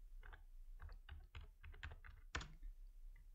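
Quick clicking keystrokes on a computer keyboard, close and crisp in uneven bursts, one sharper tap near the end, no voices.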